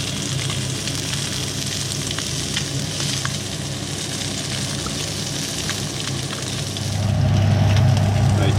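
Sauce cooking in a pan for a pollock dish, a steady close sizzle and bubbling frying sound that swells louder near the end, with no talking.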